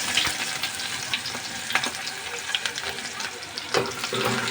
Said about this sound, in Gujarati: તો હવે આપણે નાખી દઈશું કાંદા.